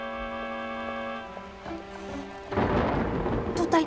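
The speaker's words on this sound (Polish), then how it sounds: "Tutaj przeczekamy burzę." Thunder from a storm in the 1991 Wizard of Oz game rolls in as a loud, broad rumble after a couple of seconds of soft sustained music, continuing to the end.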